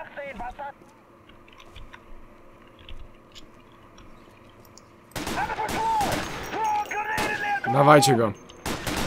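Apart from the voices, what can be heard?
gunfire in a WWII video game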